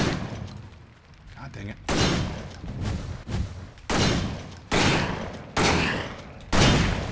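A shotgun fires in the action game Victor Vran, with heavy blasts in several separate bursts spaced a second or two apart. A voice briefly speaks between the shots.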